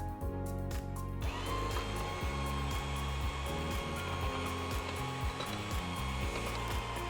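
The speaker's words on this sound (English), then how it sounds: "I'm just gonna mix this real quick before I add the honey and baking powder" An electric mixer whirs steadily while blending banana-sweetened paleo pancake batter, a continuous motor hum with slight pitch wobble, close and fairly quiet.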